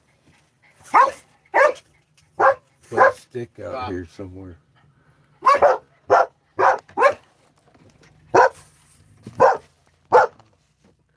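Several dogs bark in short repeated bursts close by, spaced a second or so apart across the stretch, while someone talks between and over the barks.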